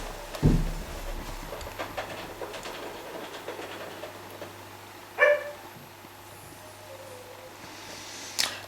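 A dog barks a few times, spaced out and sharp, over a low steady indoor hum in a reportedly haunted house.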